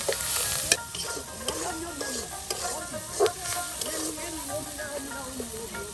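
Chopped onion frying in a pan for a lauki and egg dish, a steady close sizzle with scraping stirs and a few sharp clinks throughout, no voices.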